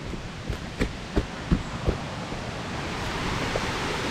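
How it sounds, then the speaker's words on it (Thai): Waterfall water flowing at a forest cascade in Bueng Kan, Thailand, heard as a steady broadband rush with a few soft thumps near the start, fairly faint and continuous, with no talking. "รู้สึกได้ยินเสียงน้ำแล้วครับ นี่ไงน้ำไปดูตรงน้ำตกกัน"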